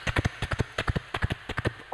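A voice or mouth clicks imitate a galloping horse, a quick run of rhythmic clip-clop beats in uneven groups of three, close and fairly loud.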